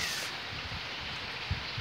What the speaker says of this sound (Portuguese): E aí vem essa chuva maravilhosa, né?